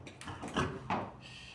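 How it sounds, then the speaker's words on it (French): An animal shoves against a shed door, giving a few dull wooden thumps and rattles in quick succession, fairly close and loud, with no talking. "elle vient de quasiment enfoncer la porte du hangar"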